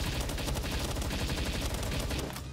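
Palworld gunfire rattles in dense, rapid bursts under a busy game soundscape, fairly loud and continuous before cutting off abruptly near the end.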